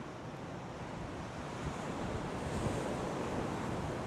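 Ocean waves on the coast of Portugal wash in as a steady, broad roar of surf with wind buffeting the microphone, continuous and loud with no voices.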